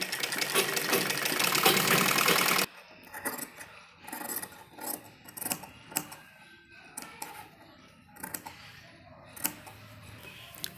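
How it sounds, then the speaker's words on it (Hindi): A sewing machine stitches fabric for a small child's dress, running in a dense continuous whir for a few seconds, then stopping and giving way to scattered short handling rustles and clicks nearby. "तो सबसे पहले एक सिलाई हम इसमें लगाएंगे।"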